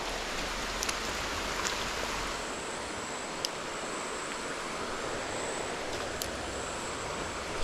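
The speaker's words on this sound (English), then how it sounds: "It's raining again." Steady rain hisses across the whole stretch, dense and even, with a few sharper drips near the start, falling during a week of heavy daily downpours over freshwater runoff where fishing for mangrove jack and barramundi takes place.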